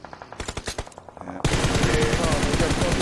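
Gunfire in a battle royale video game, with rapid bursts of shots at first, then dense, sustained automatic fire that stays loud and continuous to the end.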